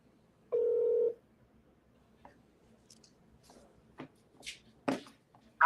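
During a phone call, one short electronic tone of about half a second sounds, followed by faint scattered clicks and shuffling handling noises in a quiet room.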